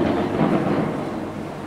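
Thunder rolls during a night thunderstorm in Spain, a deep, loud rumble sustained for the whole moment before slowly easing, with no voices.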